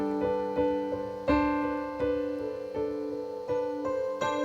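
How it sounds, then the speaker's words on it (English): On a Yamaha MODX keyboard, a CFX grand piano patch morphs into an FM electric piano. Repeated chords ring out close and clear, each struck firmly and left to decay, with no talking. "as I turn this knob, it's going to change into an FM EP piano"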